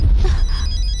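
A telephone rings briefly and goes unanswered in a Hindi-dubbed South Indian action film, a short electronic ringtone over a low rumbling background.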